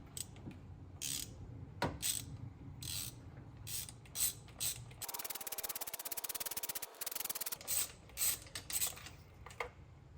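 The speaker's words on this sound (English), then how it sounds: "take your 5/8 spark plug socket with an extension and dig down in there and get your plugs out" A ratchet turning a 5/8 spark plug socket on an extension loosens the spark plugs on a G35 engine: short bursts of clicking, then a long run of rapid ratcheting, then more brief clicks, close and fairly quiet.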